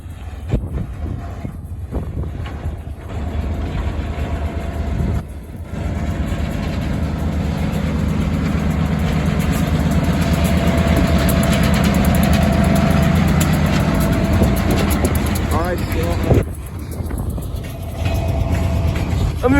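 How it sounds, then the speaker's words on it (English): A CSX freight locomotive idles beside the tracks at Lake Avenue in Blasdell, New York, on a windy afternoon, its low engine rumble rising and then settling under gusty microphone wind noise and occasional clatter. "Oh, wait, there's a train right here."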